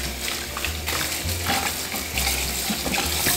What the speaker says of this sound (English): the potatoes are already peeled, you can see, and now I'm going to wash it